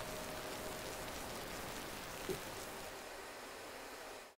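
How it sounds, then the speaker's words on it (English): Steady hiss of a synthesizer rain stick shower patch from a Moog tribute library, a dense patter of droplets with a soft swell near the end, continuous and moderately quiet. "Rain stick shower?"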